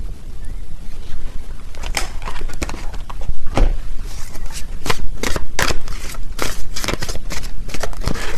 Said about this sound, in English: Let me get a few more tarot cards here.